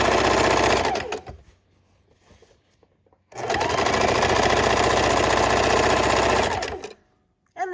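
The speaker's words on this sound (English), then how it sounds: "we're sewing a 1/4 inch away from our line" A sewing machine stitches through three quilted layers of a tote bag in two loud, steady bursts of rapid clatter, separated by a quiet pause, close up with no talking.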